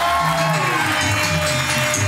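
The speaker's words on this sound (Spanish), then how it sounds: "Fuerte el aplauso a Miguelito" Studio audience on a live talk show cheering and clapping, a steady crowd roar with shouts layered over music, loud and continuous for the short stretch.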